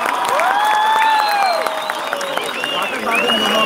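Applause from a live concert audience, with crowd noise rising and thinning over a few seconds alongside stray cheers and whistles.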